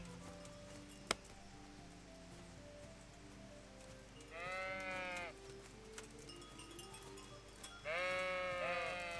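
Sheep bleat in a video game, two drawn-out wavering calls at a steady moderate level over a quiet game soundscape, with a sharp tick near the start.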